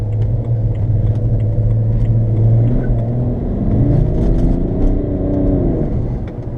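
BMW 335d diesel car with about 375 hp and 600 lb-ft of torque accelerating hard, a loud steady engine drone rising in pitch with a deep rumble throughout, heard from close by with no talking.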